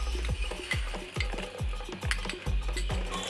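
Finely chopped ginger frying in two tablespoons of coconut oil, stirred with regular scraping strokes about twice a second over a soft sizzle, close up and without talk.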